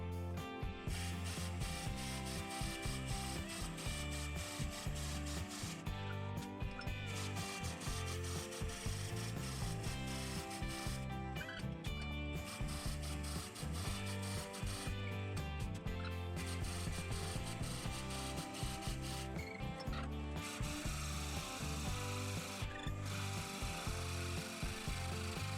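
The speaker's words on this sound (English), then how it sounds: "I want to drill this hole 6 inches deep." A drill bit bores a deep hole into a wood blank spinning on a lathe at slow speed, giving a continuous grinding, rubbing whir with rhythmic ratcheting pulses that runs steadily throughout, with no talking.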